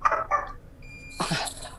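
A dog barks a few times indoors, faint short yelps followed by a louder, broader bark, heard alone at moderate distance during a city council meeting.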